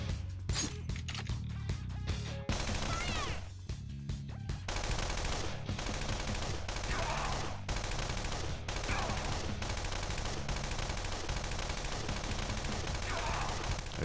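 Rapid gunfire in a Persona 5 boss battle, bursts of fast repeated shots over the battle music, running almost the whole time with brief gaps.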